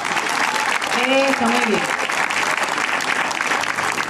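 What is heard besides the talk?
audience applause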